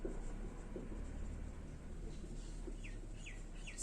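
A pen scratching steadily on paper during a math class, faint and continuous, with a few soft bird chirps in the background.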